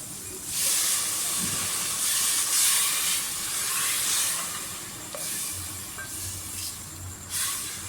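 Tomatoes going into a pan of frying masala for a crispy okra and onion dish, giving a steady broadband hiss and sizzle with brief stirring knocks and scrapes.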